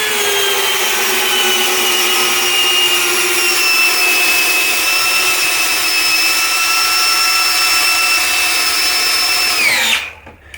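A Milwaukee Gen 3 or DeWalt 18V cordless hammer drill runs on low speed, driving a screw in a continuous loud, high-pitched whine for about ten seconds, then winds down and stops abruptly.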